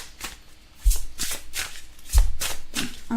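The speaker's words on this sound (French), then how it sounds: "Et on va tirer une petite carte." Oracle cards being shuffled and one drawn from the deck, a run of crisp riffling flicks at a steady rhythm with two heavier thuds, close and alone without talk.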